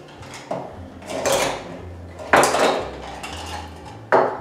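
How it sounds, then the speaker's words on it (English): Ice cubes clatter and clink into a glass while a mojito is being made, in several sharp bursts of rattling with short pauses between them, close and fairly loud. "I want to add some ice."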